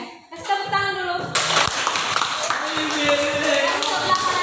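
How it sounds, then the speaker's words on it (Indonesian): A classroom of tenth-grade high school students breaks into applause, a dense, steady wash of many hands clapping that follows a brief spoken voice and carries on loud to the end. "kasih tepuk tangan dulu"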